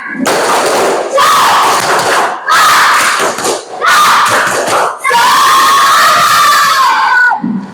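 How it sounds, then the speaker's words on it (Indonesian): A class of children clapping and shouting a rhythmic spirit chant together in loud bursts, several short rounds followed by a longer final chant, in an Indonesian primary school classroom. "Coba sebelum Ibu tutup, tepuk sekali lagi, tepuk semangat."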